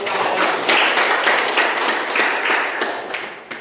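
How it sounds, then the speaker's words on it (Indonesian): An audience claps in applause, a dense, steady wash of many hands at close range that holds for several seconds and tapers slightly near the end, with no talk over it. "Tepuk tangan untuk."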